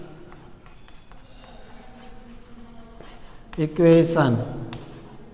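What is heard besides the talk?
writing on the board during a lecture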